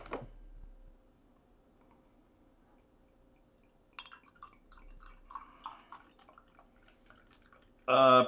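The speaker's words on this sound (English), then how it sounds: "Pretty thick pour." Bottle Logic El Duende Horchata Stout, a thick dark beer, is poured into a glass with a few soft glugging splashes in a quiet room, followed by a brief louder knock at the end.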